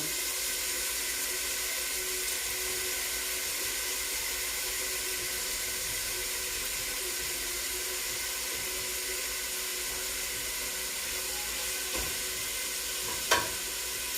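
Shrimp fry in a pan for pancit with a steady, hissing sizzle that holds evenly throughout at moderate volume, ending in a couple of sharp clinks near the end; there is no talk.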